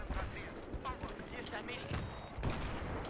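Gunfire in the video game Battlefield 3, with dense rapid shots and bursts layered over explosions and battle noise in a multiplayer Rush match, while a player talks over the fighting.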